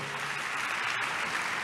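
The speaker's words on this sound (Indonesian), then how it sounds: "Tepuk tangan dulu yang paling meriah buat Tuhan." Applause from a church congregation fills the space evenly and steadily, a dense continuous wash of clapping with no voices over it.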